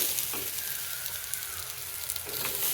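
Sweet potato pieces dropped into a hot frying pan hiss and crackle in a steady, close sizzle that holds evenly throughout, with a few faint stirring scrapes and no talking.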